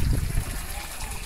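Water from a small pipe spills into a lagoon on a Guarapari beach, a close, steady trickle and splash with low rumbling noise, strongest at the start.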